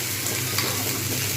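Spices sizzle and fry in a pan while being stirred for a Bengali cauliflower and egg curry, a close, continuous crackling hiss with faint scraping.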